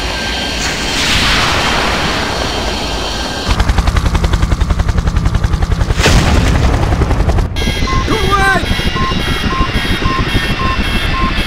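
A missile slams into a helicopter in the video game Project IGI during a border-crossing mission: a loud blast, a dense stretch of rapid machine-gun fire, then another heavy boom before cockpit alarms and rotor noise carry on.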